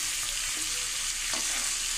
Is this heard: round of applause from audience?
no